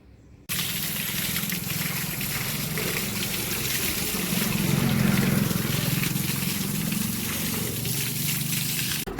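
Water sprayed over a sowing machine to rinse sand out of its bearings, a steady close hiss and splash that starts abruptly and runs without a break, swelling slightly midway.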